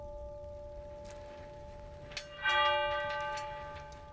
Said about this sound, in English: But you do hear a church bell.